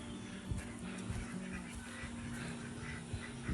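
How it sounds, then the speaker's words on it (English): Ducks quack in short, scattered bursts over a steady low hum, fairly close and moderately loud, with no talking. "I now have ducks on the porch."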